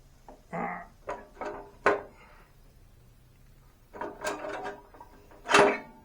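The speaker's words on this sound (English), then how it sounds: "Let's get this cover off." Cover being taken off a 1960s Bolens Suburban 26 lawnmower, with a few close metallic clunks, scrapes and rattles in short bursts and quiet gaps between.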